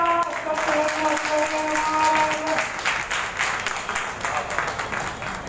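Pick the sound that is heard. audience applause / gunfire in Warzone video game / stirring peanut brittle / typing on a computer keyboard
audience applause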